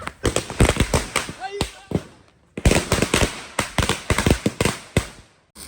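Firecrackers and sparklers burst at a home in quick, irregular bursts of sharp pops, loud and close, with a short pause midway and voices mixed in.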